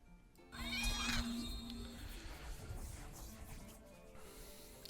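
In the Chrono CCG card game, a cat card is played and gives a loud, drawn-out synthetic meow. A shimmering effect with a held tone follows and fades under softer game sounds.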